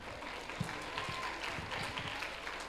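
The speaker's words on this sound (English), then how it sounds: "let's give them and give Dr. Reed a loud round of applause" Applause from a school chapel audience for a visiting speaker, a steady dense patter of clapping that carries evenly through the whole stretch, with a few louder individual claps standing out.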